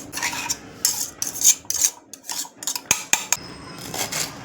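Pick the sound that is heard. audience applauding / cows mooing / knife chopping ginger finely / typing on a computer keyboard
knife chopping ginger finely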